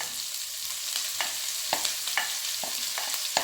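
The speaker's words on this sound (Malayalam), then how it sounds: "എന്നിട്ട് നന്നായി വഴറ്റിയെടുക്കണം" Chopped onions and shallots sauté in a pan for a fish masala, a steady sizzle broken by repeated spatula scrapes and taps at an uneven rhythm, close and moderately loud, without speech.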